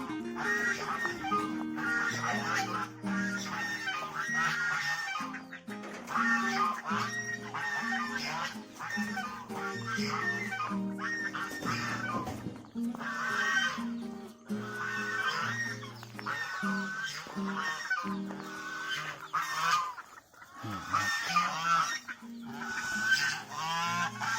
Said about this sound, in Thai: ห่านเป็ดนะครับ